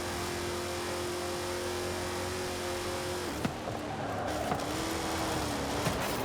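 Ford Raptor pickup truck tearing off-road in Forza Horizon 5, engine droning steadily at high revs, then a couple of thumps and shifts in pitch as it bounces over rough ground.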